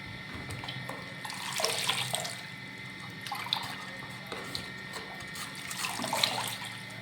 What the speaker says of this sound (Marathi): आता हे तीन ते 4 वेळा चांगले स्वच्छ पाण्याने धुवून घ्यायचे.